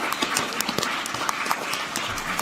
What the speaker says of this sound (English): can we all clap again, though, for all our wonderful speakers and their presentations?